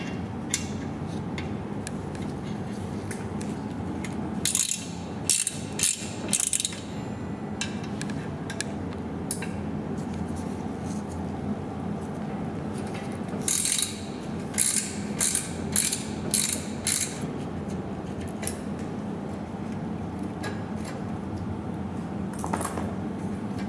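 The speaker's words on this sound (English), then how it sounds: "To remove the two bolts on the caliper, we will use 5mm Allen wrench, or you can use a set like this one." A set of Allen wrenches works the two 5mm bolts on an electric bike's brake caliper, making two bursts of rapid ratcheting clicks over a quiet room background, with no talking.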